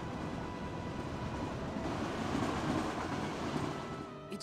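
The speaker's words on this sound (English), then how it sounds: "it's the ghost train" A ghost train in Kingdom Hearts 2 rolls past Twilight Town with a steady rumbling clatter of wheels on rails, loud and close, then eases off slightly at the end.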